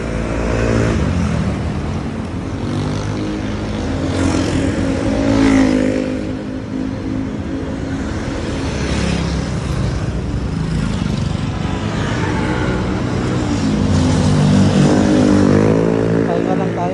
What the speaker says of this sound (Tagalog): Ang lalaki ng truck. Ang daming sasakyan sa Skyway,